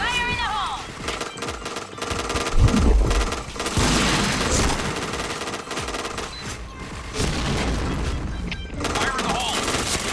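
A video game firefight with bursts of rapid gunfire and a deep grenade blast around the third second, loud and dense, with shouted voices now and then.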